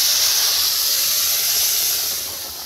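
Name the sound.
jackfruit poured into hot oil, sizzling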